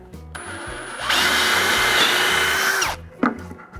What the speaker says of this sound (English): And we'll just finish drilling out this hole.